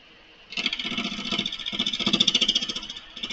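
A wood lathe spins at about 900 RPM, starting in at once, then holding a close, steady whirring roar with a fast rhythmic pulsing that grows slightly stronger toward the end.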